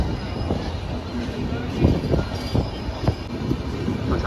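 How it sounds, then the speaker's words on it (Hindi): The Dhauli Express overtakes on a parallel track, heard from aboard the moving Howrah–Bangalore Duranto Express. There is a loud, steady rail rumble with periodic wheel clacks, and faint talk runs beneath it. "साथियों मैं देख पा रहा हूँ यहाँ पे ये पैरेलली गाड़ी अपने को ओवरटेक कर रही है, धौली एक्सप्रेस"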